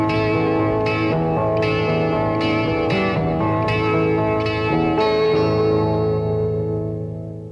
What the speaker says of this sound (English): half of each pickup can be set for different tones. So the low strings have a very different tonal quality from the high strings